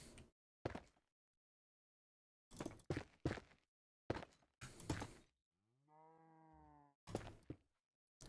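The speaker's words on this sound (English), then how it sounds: "Moo, says the cow." A cow moos once in the Minecraft video game, a clear drawn-out low call standing alone between scattered clicks and footstep-like taps, with silence around it.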